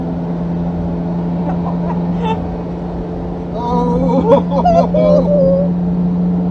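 A Daihatsu Fellow Max car drives at speed with a steady droning engine hum and road noise heard from inside, and people talk over it in the second half.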